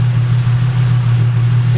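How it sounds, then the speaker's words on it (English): A Holden L67 supercharged V6 idles steadily close by, a smooth, even low rumble with no revving, sustained throughout. "Seems to be idling pretty good."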